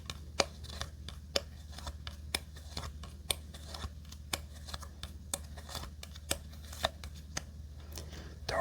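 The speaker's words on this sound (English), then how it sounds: "So we deal out 9 cards." Playing cards from the Regicide fantasy card game are dealt one by one in a quiet close-up setting, each card landing with a soft, crisp snap in a steady rhythm of about two per second.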